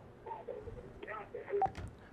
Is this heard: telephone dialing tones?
yes